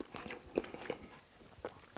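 Someone bites and chews prawn egg foo yung with crunchy bean sprouts and peppers, giving several close, crisp crunches in an irregular rhythm with quiet gaps between bites.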